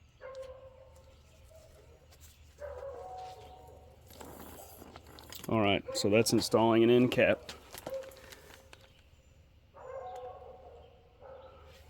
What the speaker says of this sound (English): I'm sorry about the barking dogs.